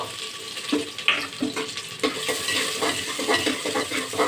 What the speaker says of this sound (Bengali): কিছুটা পেঁয়াজ দিয়েছে, ভাজা ভাজা হয়ে এসছে